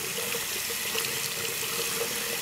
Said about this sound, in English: Turn on the faucet on hot. Let it run for a little bit.